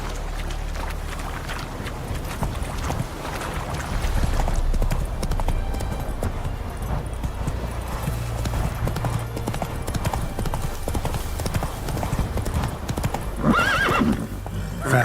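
Roach, a horse in The Witcher 3, gallops with a rapid, steady clip-clop of hooves throughout, joined by neighing and whinnying, loud and close over continuous game ambience and music.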